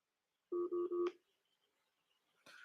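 A telephone keypad sounds three quick, identical DTMF beeps while a call is being placed. A short click follows, then a brief rustle and a faint burst of noise near the end. No one speaks.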